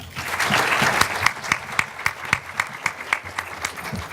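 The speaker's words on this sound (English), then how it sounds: "So please welcome her with a great round of applause" An audience at a Stand Against Racism panel applauds to welcome the moderator, a dense wash of clapping that thins into scattered individual claps, close and lively.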